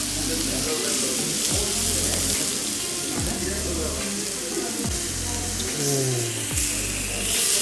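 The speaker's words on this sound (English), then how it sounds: "The raw smell of beef cooked on hot rock." Beef steak sizzles on a hot cooking rock, a steady close frying hiss with faint crackles running through the whole stretch, and no talk over it.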